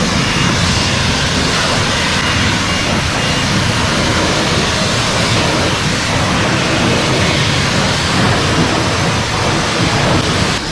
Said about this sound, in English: Now we can hit it up with the high pressure wash.